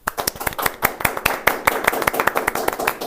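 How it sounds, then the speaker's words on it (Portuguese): Round of applause in a podcast studio, a small group clapping steadily with sharp, close hand claps for about three seconds. "Uma salva de palmas."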